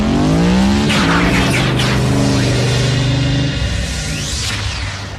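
Cartoon car engine revving from Transformers Prime, a loud, close roar that climbs and shifts pitch over several seconds before easing off, with a brief tire-squeal-like sweep in the middle.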